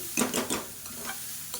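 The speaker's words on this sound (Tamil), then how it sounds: "இப்போ லாஸ்ட்டாக பொடியாக கொத்தமல்லி இலை சேர்த்துட்டு ஒரு பரட்டி விட்டுக்கலாம்" Wedding-style cabbage poriyal sizzles in a pan and is stirred briskly, with a few quick scraping strokes at the start before it settles into a soft, steady fry with no voices.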